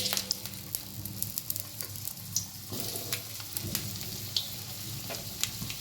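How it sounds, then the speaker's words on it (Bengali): Potato pieces fry in hot mustard oil in a kadai, giving a soft, continuous sizzle and crackle with occasional stirring clicks, quiet and close. "আলুগুলো একটু হালকা করে ভেজে নেব।"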